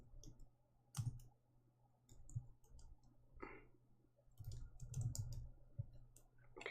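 Sparse clicks and short bursts of keyboard typing while writing a Java while loop, quiet and close, separated by pauses over a faint steady hum.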